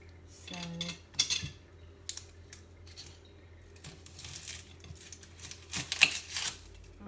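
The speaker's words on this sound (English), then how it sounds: "So we're just going to slice one medium onion in our pan." Knife slicing a medium onion in an unheated oiled pan, giving a string of soft, uneven clicks and scrapes with metal clatter, moderately close and fairly quiet.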